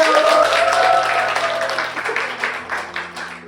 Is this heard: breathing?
no